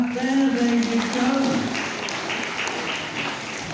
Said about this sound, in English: Give a nice big clap there.